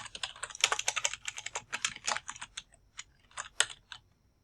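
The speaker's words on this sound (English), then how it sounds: "On the top left, I'm going to type in athletics." Someone types on a computer keyboard, with quick, close, crisp key clicks arriving in short bursts and a few brief pauses, and no talking over them.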